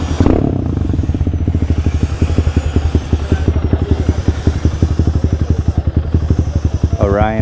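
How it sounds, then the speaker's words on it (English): Motorcycle with a custom Orion muffler, a Diablo, idling loud and close with a deep, lumpy, pulsing exhaust beat, rising in a brief rev at the end. "Custom made muffler for the Diablo. Much better sounding than the two brothers."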